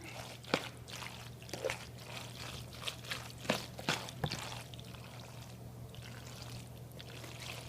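Wet, sticky squelching and soft liquid slaps as macaroni is stirred into cheese sauce, with a few sharper splats over a low steady hum.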